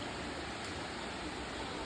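A distant waterfall, Tat Sao Wa in a jungle, gives a steady, faint, broadband rush of falling water with no breaks or other sounds.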